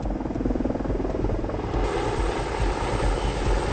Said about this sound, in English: the path should now be clear for Spanky in helicopter number 2 to make the pickup